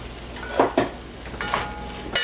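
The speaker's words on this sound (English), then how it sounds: "Give it a nice stir." A spoon stirs red pepper with onions, salt and pepper in a cooking pot, giving a few close clinks and scrapes of metal against the pot over about two seconds, alone with no talk.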